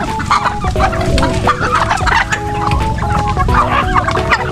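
Backyard chickens in a coop cluck steadily and close up, with overlapping hen calls and a faint rooster crow, dense and continuous with no talking.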